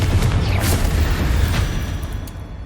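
A Confringo spell blast in Hogwarts Legacy, a loud booming explosion with a sharp burst up front that rolls off into a decaying rumble, no voices over it.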